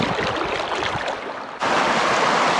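River water rushing where three streams join near the Rapti at Hetauda, Nepal, a loud, continuous wash of flowing water that briefly dips and then surges back even stronger.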